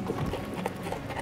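Horse hooves clip-clop in a brief steady rhythm on a hard surface, fairly close, at a riding school stable in Finland.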